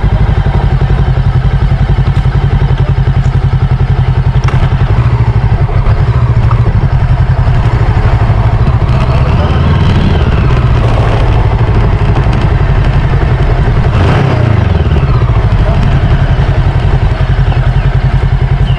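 Motorcycle engine running at a riverside campsite as the bike is moved into position, a loud steady low rumble with clatter and brief revs, and occasional handling noises.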